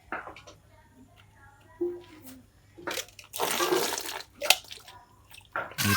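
Food being washed in water before boiling, with bursts of splashing and sloshing between quiet pauses, close by.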